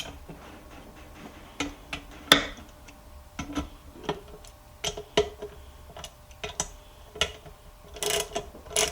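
Ratchet snugging down the intake cover bolts on a Chevy 3.6 LLT V6, a close series of short, sharp clicking bursts in irregular back-and-forth rhythm, with quiet gaps between strokes and no talk.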